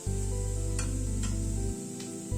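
Garlic, nigella seeds and dried chilli fry lightly in hot oil, a continuous close sizzle with a few brief scraping strokes over a steady low hum, no talk.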